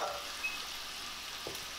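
Apples cooking in a pan over medium heat for walnut-meat tacos, a soft, steady, fairly faint sizzle with one small knock near the end.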